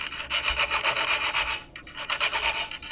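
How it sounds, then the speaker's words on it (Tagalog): A hand file rasps rhythmically along the sharp edges of a Damascus gamecock spur blade, steady close back-and-forth strokes with a brief pause midway, loud and clear without talk. "kinikikil po natin yung mga sharp edges ng garol natin para hindi po maputol yung kapag nagtatali tayo"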